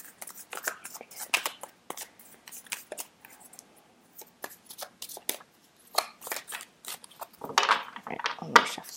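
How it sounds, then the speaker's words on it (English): Tarot cards being shuffled by hand, a run of crisp irregular riffles and taps, close and fairly quiet, with no talk. "let me shuffle, kids"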